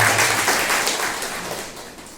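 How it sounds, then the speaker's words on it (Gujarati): A church congregation claps together in a dense, sustained burst of applause that slowly fades over a couple of seconds. "તાળી પાડી પ્રભુને મહિમા"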